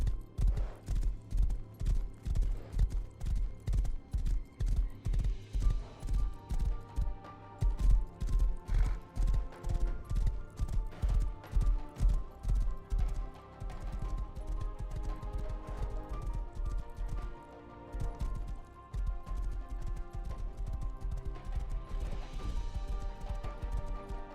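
Hooves pound rhythmically as a horse gallops in the game Rust, loud and close, a fast, even beat that later softens into a denser, blurred rumble with a short gap near the end.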